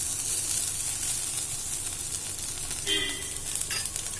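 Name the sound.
cooked rice being mixed into okra in a pan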